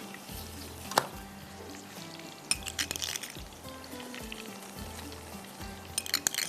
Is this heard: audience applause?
no